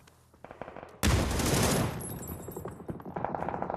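Gunfire in the battle royale shooter PUBG during an esports championship match, a burst of loud shots after a quieter start, then softer trailing reports and game ambience.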